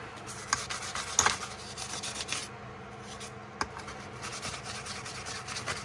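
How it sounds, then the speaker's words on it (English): Hand sanding on a Utica jack knife produces a faint, steady rubbing rasp with a few sharp clicks, close by and without talk. "I want to sand right in here"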